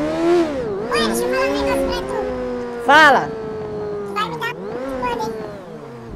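Motorcycle engine revving in GTA 5 during a hillside motorbike ride with friends, rising and falling whine under loud overlapping talk and shouts.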